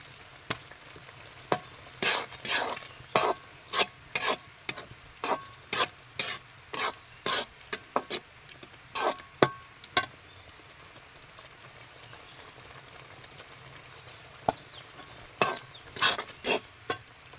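A spoon scraping and stirring semolina into a carrot and beetroot sweet in a pan, a series of sharp, close scrapes in an uneven rhythm over a low background with a few pauses.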